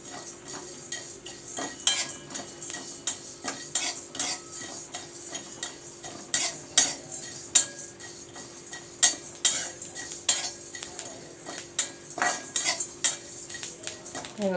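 Spices and black pepper dry-roasting in a pan, stirred with a metal spoon that scrapes and clinks against the pan in an irregular rhythm, close and fairly quiet, with no talking.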